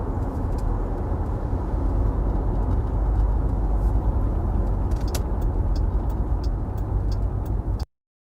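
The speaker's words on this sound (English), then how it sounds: "he is driving in some fierce wind here" A car driving through fierce wind during a tornado threat, a steady loud roaring rumble of road and wind noise with a few faint clicks near the end before cutting off abruptly.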